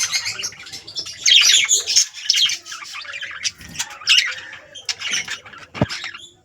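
Pet lovebirds and pigeons in an aviary keep up dense, overlapping chirps, squawks and coos with a brief flutter of wings, loud and close throughout with no talking.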